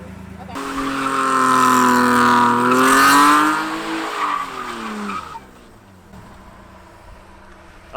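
A car drifts through donuts at Spirit Peaks Raceway, its engine revving hard and its tires squealing loudly for several seconds before the noise cuts off, with people talking alongside.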